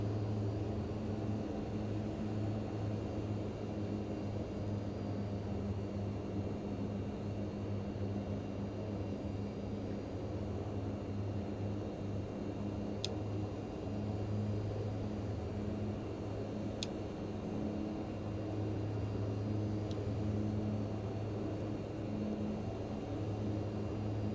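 Steady, droning engine noise from a Mitsubishi MU-2 (MHI) twin turboprop in Microsoft Flight Simulator 2020 on a flight over Hawaii, a constant low hum with broadband rush that holds unchanged throughout, with no talk.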